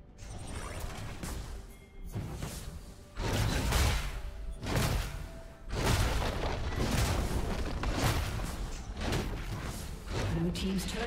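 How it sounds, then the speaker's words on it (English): A turret being destroyed in a League of Legends match, with repeated loud booming crashes and whooshing blasts over dense game sound, several heavy impacts spread across the clip. "Blue team's turret has been destroyed."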